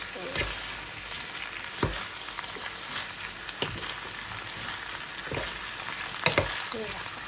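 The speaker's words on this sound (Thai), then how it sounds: "เราก็จะผัดผัดไปแบบนี้แหละค่ะ" Shrimp and vegetables stir-fried in a pan give a steady sizzle with scraping stir strokes every second or so, close and moderately loud, with no talking.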